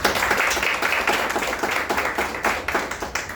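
Audience at a press conference clapping, a dense burst of rapid hand claps close by that holds steady for a few seconds with no talk over it.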